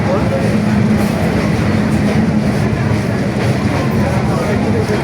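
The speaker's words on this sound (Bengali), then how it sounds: "এই যে ট্রেন" Train at Bimanbandar (Airport) railway station in Bangladesh, a steady loud rumble of rolling carriages with faint rhythmic clatter filling the whole span, no pauses, under a busy crowded platform atmosphere.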